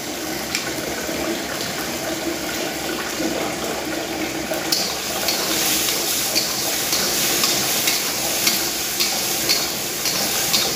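Potatoes tipped into a pan for egg dum aloo, a steady watery bubbling and sizzle that grows louder partway through, with light stirring clicks, close by and without talk.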